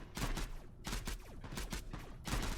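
Turrets in the video game Mindustry fire rapid, repeated bursts of crackling shots in a steady rhythm. The sound is quiet and has no talk over it.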